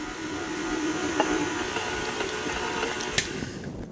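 A stand mixer running on low churns peanut butter brown sugar cookie dough, giving a continuous mechanical whir with faint clinks, steady and close throughout.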